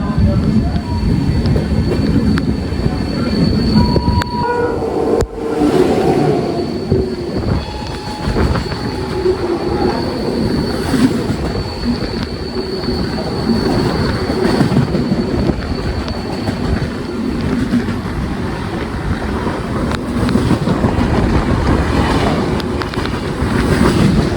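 The KSR Bengaluru–Ernakulam Intercity train runs through a station without stopping, a loud continuous rumble of wheels and carriages with rhythmic clatter and occasional squeals, sustained throughout.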